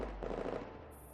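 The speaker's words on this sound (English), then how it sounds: "number 9 follows suit, firing a few more rounds in direction when Nemron evades" Rapid automatic gunfire from the Girls Frontline game, a burst of rounds fired in quick succession, dense and loud, trailing off at the end.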